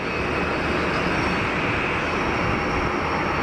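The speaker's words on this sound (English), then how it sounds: "United cranked up the taxi speed a little bit," A United airliner taxiing at Geneva Airport with its engines spooled up a little, producing a loud, continuous broadband jet roar that stays steady and close, with no voices.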